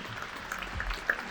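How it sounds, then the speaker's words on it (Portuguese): Brief, scattered applause at a formal highway-sector conference session, a short soft burst of clapping from an audience in a hall. "Palmas para a Nancy."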